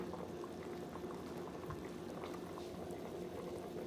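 A pot of great northern beans with a smoked ham bone bubbles at a steady boil, a soft continuous simmering gurgle, faint and even throughout with no voices.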